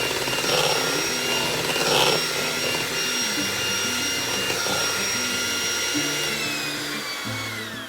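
An electric mixer whips a sugar-free cheesecake mixture with a continuous loud whirring drone, its pitch stepping up as the speed is gradually raised.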